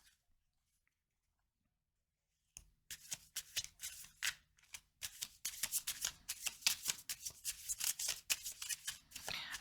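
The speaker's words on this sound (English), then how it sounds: "Okay, so let's pull more cards." Tarot cards shuffled and pulled by hand, a near, crisp run of rapid riffling and snapping card flicks that starts after a few seconds of quiet and continues in quick bursts.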